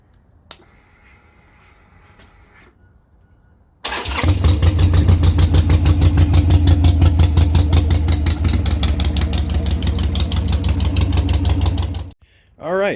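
A Harley-Davidson Sportster Iron 883 fires up after a few seconds of quiet, then settles into a loud, close, lumpy V-twin idle with a steady pulsing beat for about eight seconds before cutting off.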